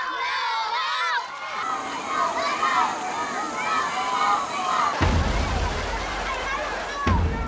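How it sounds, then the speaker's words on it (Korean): Villagers shout, cheer and jeer on their teams at a riverside tug-of-war festival in the Philippines, a dense crowd roar with overlapping voices that swells louder toward the end. "각 마을 사람들은 온 힘을 다해 응원과 더불어 상대팀에게는 야유를 보냅니다"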